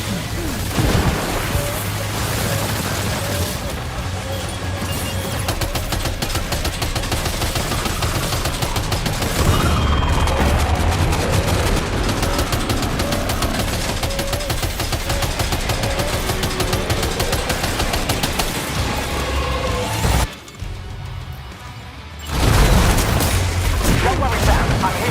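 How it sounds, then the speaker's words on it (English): Sustained, dense gunfire from Death Stranding 2 rolls on almost without a break, with booming impacts layered over the shooting. It drops out briefly near the end, then comes back loud. "Opening fire now."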